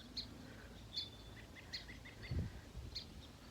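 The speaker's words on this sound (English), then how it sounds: "You'll have a bird," A garden bird sings a few faint chirping notes in short phrases, well apart, over a soft outdoor background with a brief low rustle.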